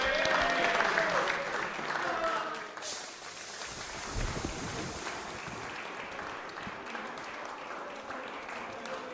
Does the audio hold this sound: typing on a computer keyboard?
no